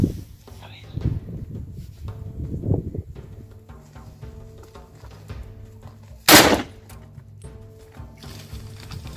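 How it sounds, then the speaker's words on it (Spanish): A hunting rifle fires at deer during a Spanish driven hunt, one sharp loud shot cracking out midway, with rustling footsteps and faint movement before it and a quiet tail after. "Y Fran, de un buen disparo, había conseguido alcanzar a una de ellas antes de que se volviera."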